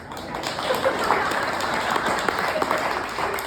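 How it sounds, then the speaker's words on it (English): An outdoor festival audience breaks into scattered clapping, a thin patter of applause heard under a voice on a microphone. "You can clap now"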